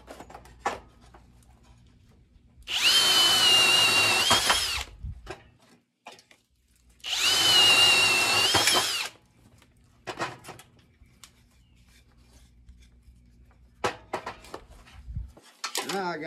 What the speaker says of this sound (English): I gotta get a drill a hole through this board